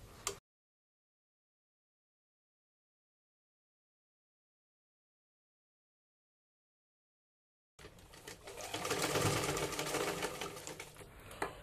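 After a long stretch of silence, a sewing machine stitches the side of golden fabric in a close, rapid whirring burst lasting a few seconds.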